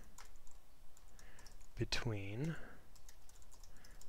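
Computer keyboard typing Python code: faint, scattered key clicks sit under a brief spoken word, with steady low room noise throughout.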